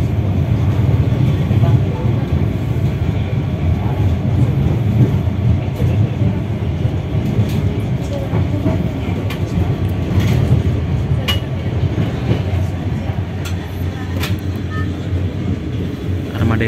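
Steady rumble and rattle fill the cabin of the KA Banyubiru executive-class passenger train on the Semarang–Solo run, a continuous loud low drone with occasional clicks and knocks from the rolling coach.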